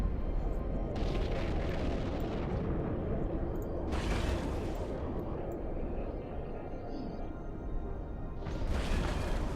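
Heavy weapon fire in the space game Eve Online, a constant deep rumbling roar with several louder bursts of booming shots spaced a few seconds apart, loud and close.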